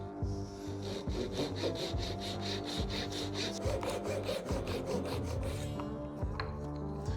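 A hand saw cutting wood for a bowtie inlay, brisk rhythmic back-and-forth strokes of rasping teeth, close and steady, then a brief pause and a final scrape near the end, with no talking.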